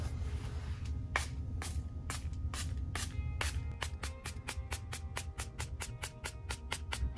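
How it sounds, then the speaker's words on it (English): A rapid series of short spray bursts, spaced out at first and then quickening into a steady run of spritzes over a low background hum. "I've put it in a little spritzer bottle"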